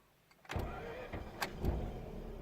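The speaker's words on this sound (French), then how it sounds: "avec un démarreur qui tourne à peu près à 250 tours minute" Mazda RX8 rotary engine turning over on its starter and firing back up after an engine rebuild, a loud close burst of whirring and roaring with a couple of sharp transients, running steadily afterward.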